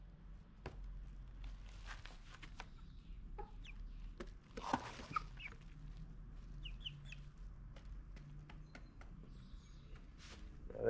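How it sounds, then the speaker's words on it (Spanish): Padovana chicks feeding at home, giving soft scattered clucks and peeps over a steady low background hum, with a louder burst of clucking near the middle and light shuffling sounds. "Ahí están comiendo los pollitos."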